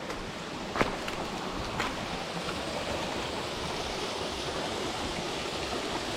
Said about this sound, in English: Look at this cascade already.